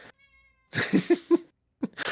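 A cat meows several times in short, clear bursts indoors, close and fairly loud, with quiet gaps between the calls and no talking.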